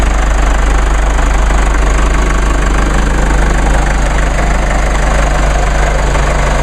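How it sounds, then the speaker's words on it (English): A Mercedes-Benz GLK 250 diesel engine running smoothly, a loud, steady, close-up rumbling hum with constant low vibration and no variation throughout. "That is one smooth running diesel."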